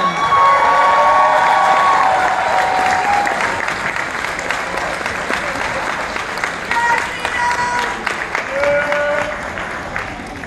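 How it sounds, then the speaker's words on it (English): A large audience at a charity gala ball claps and cheers for Sheena Saydam, a loud, dense, sustained ovation with whoops and shouts that carries on for about ten seconds before easing slightly. "give a big round of applause for Sheena Saydam"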